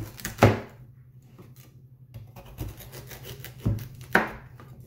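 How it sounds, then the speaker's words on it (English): A knife chops through sweet potato into rough cubes on a cutting board, giving four sharp, fairly loud thuds at irregular intervals with quiet pauses between them and no talking. "I'll just cut it into rough cubes about that size, like that"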